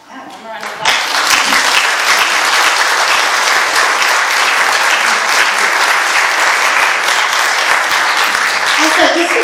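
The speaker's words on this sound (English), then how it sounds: "one more round of applause" A film festival panel audience breaks into loud, dense applause, many hands clapping close and continuous for several seconds without letting up.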